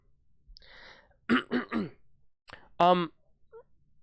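A person coughs and clears their throat in a few short, harsh bursts, close by, with brief pauses between them.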